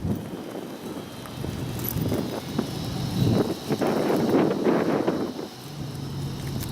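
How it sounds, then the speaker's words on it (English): Steady Hurricane Harvey wind in Houston rumbles and buffets the microphone throughout, with gusts swelling louder toward the middle before easing off; a faint engine-like drone sits underneath. "That was probably too windy."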